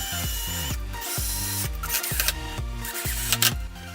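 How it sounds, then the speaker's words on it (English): A power drill drives 1-inch screws into a cheap DIY drift trike wheel in short, repeated bursts, each whirring up then bogging down in pitch, with brief clicks and pauses between them. "Decided I am going to put a couple little like 1-inch screws into the wheel."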